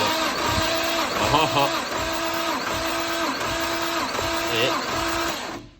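A cooked Nissan RB25DET engine in an R33 cranks over at full throttle during a compression test, making a steady, rhythmic, loud whirring churn in even cycles, with voices in the background.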